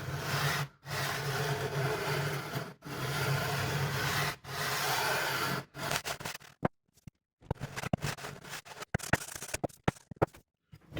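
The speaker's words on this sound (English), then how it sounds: "So some of this paint is going to end up getting sanded off a little bit." Sandpaper scrubs paint off a guitar neck during a refret in steady back-and-forth strokes with short pauses between, close and dry, breaking into quicker, choppier rubs toward the end.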